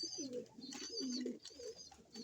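Pigeons give soft, repeated throaty coos close by, in several rolling phrases with no other voices.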